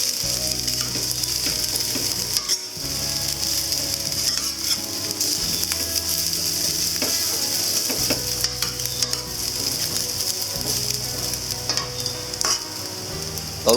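A spatula breaks up clumped rice and stir-fries it in a wok for egg fried rice with crispy whitebait, making loud continuous scraping and rattling over a steady sizzle, close up with no talk.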